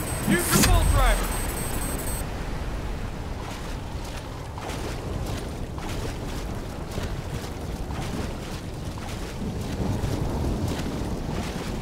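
Heavy waves crash and churn through a storm in Call of Duty Black Ops 3, a continuous loud wash of water and wind with a sharp burst at the start.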